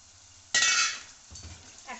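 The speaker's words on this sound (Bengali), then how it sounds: "এখন দেখো মশলার সাথে আমি একটু কষায় নেব।" Seeds and spices hit hot oil in a pan, giving one sudden bright sizzle that fades quickly. A few soft clinks of a utensil follow.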